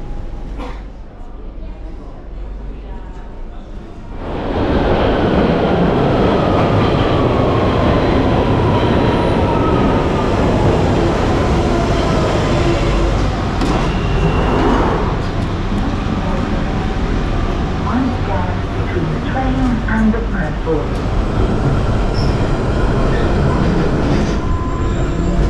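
A London Underground metro train rumbles loudly and steadily after a quieter opening, with a rising whine of motors and faint wheel squeals through the carriage, filling the whole stretch.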